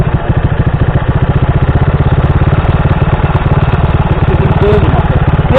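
A Kawasaki KSR 110 minibike engine idles close by with a steady, rapid thumping pulse, held loud and even throughout, while faint voices can be made out beneath it.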